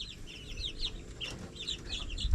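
Chickens clucking in a steady, busy chorus of short chirpy calls on a farm, fairly close, with a low background rumble and no talking.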